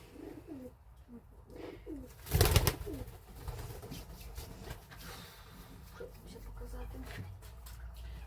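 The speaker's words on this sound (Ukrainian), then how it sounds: "зараз я вам покажу чорно-білих голубів" Pigeons coo in soft repeated rolling calls close by, broken by a brief burst of rustling, with low murmured talk in the background.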